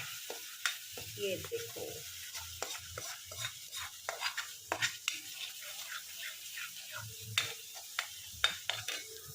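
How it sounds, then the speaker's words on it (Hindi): Spiced masala of turmeric, salt and chilli stirred and fried in a pan, with a steady sizzle and repeated spatula scrapes, while a voice briefly speaks over the cooking. "इससे ये अच्छे से और भुन जाएगा।"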